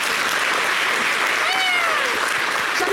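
Studio audience applause on a TV variety show, a dense, continuous clapping wash at steady level, with a short whistle-like sliding tone cutting through midway.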